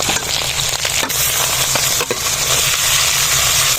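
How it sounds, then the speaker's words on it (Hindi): Pieces of meat fry loudly in hot oil in a village kitchen as onion, garlic and chili are added, a dense, continuous sizzle with stirring clatter throughout, close and loud. "हमारा गोश्त जो है ना सुनहरा हो गया है तो इसमें शामिल करेंगे प्याज, लहसुन और मिर्च"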